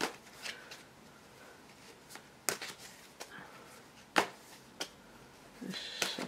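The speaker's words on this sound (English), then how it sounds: "Shuffling the cards." Tarot cards being shuffled by hand: crisp riffling bursts and sharp card slaps at irregular intervals, fairly close and moderately loud, with quiet pauses between.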